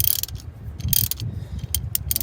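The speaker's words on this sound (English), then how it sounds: "we're going to use the 3/8 inch ratchet with a 13mm socket on it. Try to loosen it up before we loosen the belt." A 3/8-inch ratchet with a 13mm socket loosens an idler pulley bolt on a 5.9L Cummins engine, making quick bursts of sharp, close metallic clicking.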